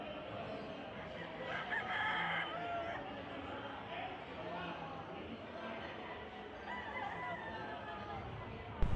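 A rooster crows amid a busy crowd at a fiesta market selling pet chickens, with steady chatter and clucking fowl all around.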